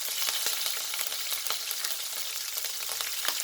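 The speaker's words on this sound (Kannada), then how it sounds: "ಗ್ರೀನ್ ಚಿಲ್ಲಿ ಎಲ್ಲ ಸ್ವಲ್ಪ ಫ್ರೈ ಆಗಲಿ." Green chillies, ginger garlic paste and curry leaves frying in oil for cabbage palya, a loud, dense sputtering sizzle with quick crackling pops throughout.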